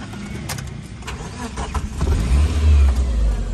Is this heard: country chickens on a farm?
no